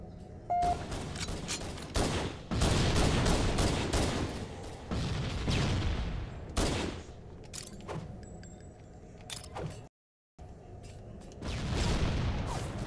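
Gunfire in a multiplayer shooter video game match, bursts of rapid automatic fire repeating loudly across the clip with short gaps and one brief full silence, no speech.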